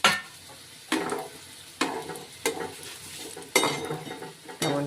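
Puris frying in hot oil for breakfast, with a bubbling sizzle broken by about six sharp, loud splashes or stirring clatters at irregular intervals, close by with no talking.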